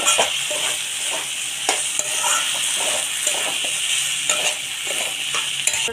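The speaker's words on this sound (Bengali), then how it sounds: "দশ মিনিট ধরে এটা আরও তো নেড়ে ছেড়ে কষিয়ে নেব" Ghugni masala with cumin powder stirred and fried in a pan, a steady close sizzle carrying repeated scraping strokes of the spoon throughout.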